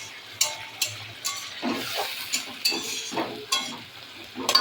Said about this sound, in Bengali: মশলাটা কষানো হচ্ছে, এর মধ্যে একটু সোয়া সস দিয়ে দিলাম